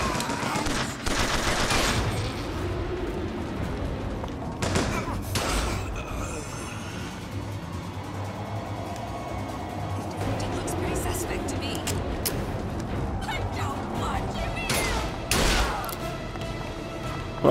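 Gunshots in the video game BioShock Infinite: Burial at Sea, a few loud sharp reports scattered among steady game ambience and background music, with someone talking over parts of it.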